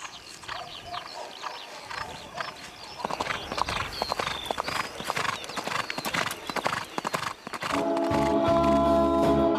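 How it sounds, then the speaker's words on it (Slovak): Horse hooves clip-clopping steadily and fairly close at a walking pace over several seconds, ending under a louder sustained background of tones. "alebo sadnem na koňa"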